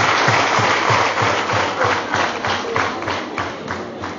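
A church congregation claps together in a loud, steady rhythm, about three beats a second. The massed hands keep up a continuous, crowded wash of sound throughout.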